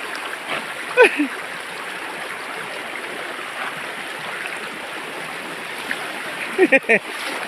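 Steady rushing of a flood-season stream throughout, with a few brief splashes near the start and again toward the end.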